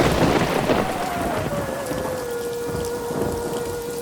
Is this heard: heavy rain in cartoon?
yes